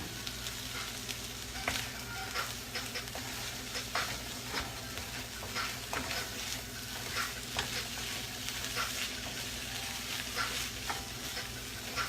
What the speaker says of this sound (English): This rice has been sitting there frying the whole time